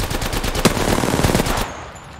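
Rapid automatic gunfire from a video game rattles in a dense, loud burst of overlapping shots, then cuts off abruptly.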